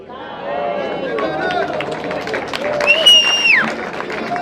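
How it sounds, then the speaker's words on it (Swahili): A crowd at Martha Karua's PLP party launch rally applauds and cheers. A steady wash of clapping and voices keeps going throughout, and a shrill whistle-like tone rises near the end. "Makofi mazuri for the people's poet"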